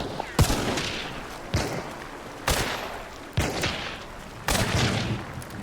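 Five loud gunshots crack out one at a time, spaced about a second apart, each followed by a short ringing tail, in a firefight in Hunt: Showdown.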